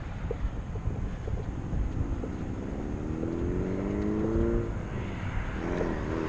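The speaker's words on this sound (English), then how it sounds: "Hopefully you guys enjoyed Michael's single cam ripping down the road" Michael's built, street-tuned single cam car pulls hard down the road at night, a steady engine roar rising in pitch through the gears with wind noise over it, recorded from inside or nearby.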